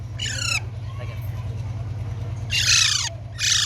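Pakistani ringneck parakeet chicks calling in shrill, descending squawking bursts, a few close calls over a constant low mechanical hum.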